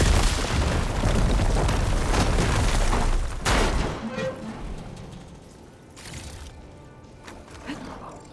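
A large explosion in an adventure video game as a fire gleam blocking a path is blown up, with a dense roaring blast that decays into a lingering rumble and crackling debris.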